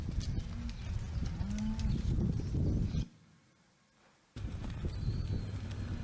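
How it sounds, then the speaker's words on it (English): Hereford cattle being moved to their pen low and moo amid shuffling hooves and farmyard noise, with a brief quiet gap before the herd sounds resume. "This is that same group of Herefords there going to their pen."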